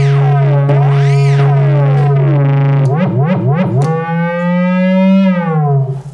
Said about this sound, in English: or I'll hear the FM synth.